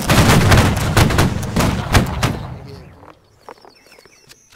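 A loud volley of gunfire in a war video game, a rapid string of sharp shots and booms that thins into scattered distant pops and fades to near quiet.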